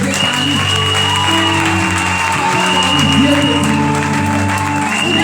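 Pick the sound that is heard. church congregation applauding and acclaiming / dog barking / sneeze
church congregation applauding and acclaiming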